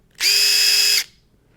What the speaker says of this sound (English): Now you can see the chuck on the impact drill is different